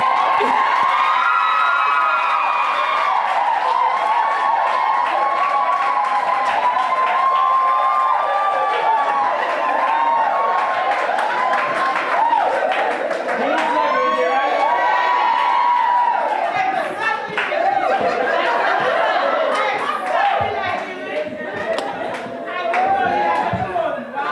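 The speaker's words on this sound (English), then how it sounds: "give a round of applause to that presenter" A crowd at a 2015 Ministry of Health event cheers and shouts for a presenter, with high children's whoops and excited voices riding over scattered clapping throughout, loud and continuous.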